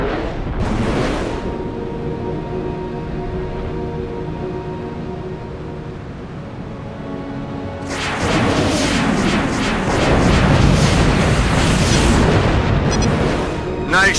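Heavy blasts and rumbling explosions in the Rebel Raiders aerial combat game, a brief burst early on, then a long loud roar of detonations and gunfire over steady engine drone, with a voice speaking.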